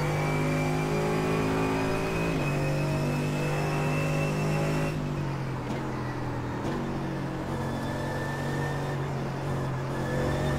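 Mercedes AMG GT3 race car engine in the iRacing sim, a loud close engine drone with strong harmonic tones that shift pitch as the car accelerates and changes gears, running continuously without talk.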